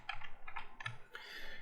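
Computer keyboard typing in short bursts of quick key clicks with brief pauses, close and fairly quiet, no talking.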